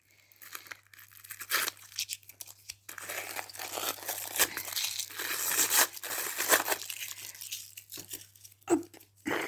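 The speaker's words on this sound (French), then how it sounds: "je déballe les rouleaux qui me restent" Rolls of stickers from an online order are unwrapped from their plastic packaging, giving bursts of loud crinkling and tearing that come and go over several seconds, close up and with no talking.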